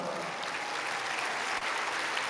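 Steady, fairly quiet applause from a church congregation during a sermon, a dense even patter of many hands clapping continuously at a distance.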